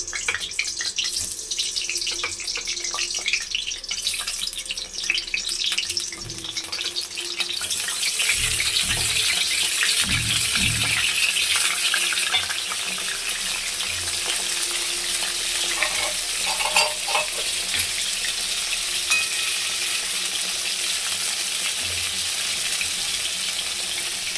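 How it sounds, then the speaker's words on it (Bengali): Pointed gourds (potol) drop into hot oil one by one and fry with a loud, constant sizzling hiss that swells after the first few seconds, with scattered stirring clinks and knocks close by. "এবার একে একে পটলগুলো তেলের মধ্যে দিয়ে দিচ্ছি।"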